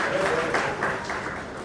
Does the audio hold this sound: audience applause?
yes